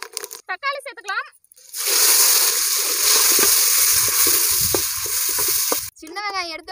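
Tomatoes hit hot oil in a pan with dal, fenugreek, garlic and curry leaves for a village-style fish curry, giving a loud, steady sizzle lasting several seconds, with brief talk before and after.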